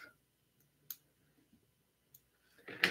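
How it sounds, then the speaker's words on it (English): Small scissors snip a single long feather fiber at a fly-tying bench, giving a few sharp, isolated clicks spaced apart in a quiet room. "we're going to cut this one longer fiber off."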